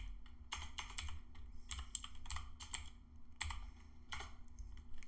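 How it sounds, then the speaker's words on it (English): A computer keyboard being typed on to enter a username, quick bursts of close, crisp key clicks in short clusters separated by brief gaps, over a faint steady hum, with no talking. "go ahead and type out your username"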